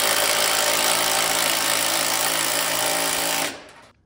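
A loud, steady mechanical clatter accompanies a Chevrolet LS engine being pulled forward on a chain during engine prep, continuing without a break for about three and a half seconds before cutting off abruptly.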